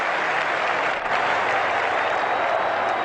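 Cricket crowd applauding in Cricket 2001 during an Australia vs South Africa test match, a steady dense wash of clapping from a large distant stand, continuous and even throughout.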